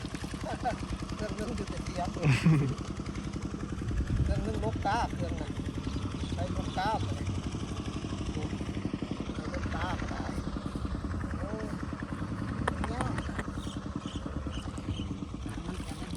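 A small walking tractor's engine chugs steadily and loudly while stuck in a muddy rice paddy, a continuous rough putter with brief surges, and people talking over it.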